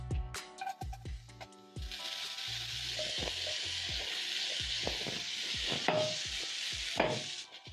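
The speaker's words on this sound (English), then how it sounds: "I'm going to be adding in my cabbage." Shredded cabbage hits a hot pan of onions and garlic and starts frying, a steady sizzle with repeated knocks and scrapes of stirring, close and clear with no talking.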